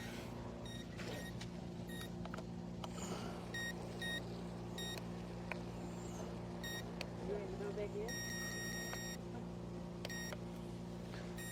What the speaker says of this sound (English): don't know why it's beeping like that